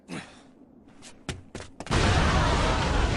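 Explosion in a dubbed anime battle scene from The Seven Deadly Sins: a few sharp blasts and thuds, then a loud, sustained roaring rumble that fills the rest of the moment.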